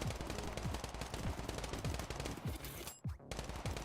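Rapid video game Uzi bursts crackle steadily at moderate distance in a battle royale match, a quick rattling string of shots with a brief sharp break near the end.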